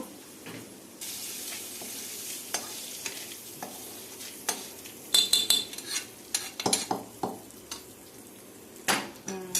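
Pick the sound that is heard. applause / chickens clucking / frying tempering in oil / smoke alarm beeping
frying tempering in oil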